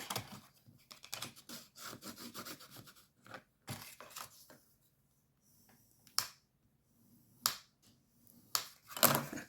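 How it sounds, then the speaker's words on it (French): Close, crisp rubbing and scraping as folds are pressed into a paper pop-up Christmas card: a dense run of quick swipes for the first few seconds, then a quiet gap broken by a few sharp, isolated creasing strokes, with no talking. "Ensuite, on va bien marquer les plis."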